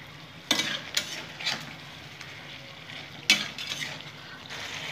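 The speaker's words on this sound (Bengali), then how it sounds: "নেড়ে নেব।" Potol posto (pointed gourd in poppy seed paste) being stirred in a pan, a few distinct scraping strokes of a spatula over a low sizzle, close and clear.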